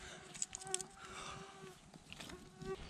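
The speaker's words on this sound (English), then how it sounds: "Fuck off, mosquitoes." Mosquitoes buzzing outdoors at a bushcraft camp in the woods, a faint, wavering high whine drifting in and out over quiet background ambience.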